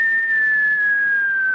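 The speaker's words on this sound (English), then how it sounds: "None of that whistling crap." A single loud, sustained whistle from a person, one long steady tone that slides slightly lower before cutting off abruptly, heard alone.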